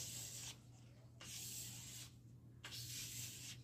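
A machete blade is sharpened against spinning 360-grit sandpaper: three hissing grinding passes with short pauses between them, over a steady low motor hum.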